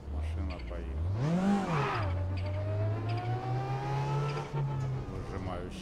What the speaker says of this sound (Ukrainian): Даю газ. Машина поїхала.